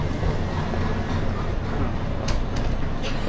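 Rumbling, rattling interior noise from the Ramna local train in motion, a steady low roar with some clatter, heard from inside the carriage.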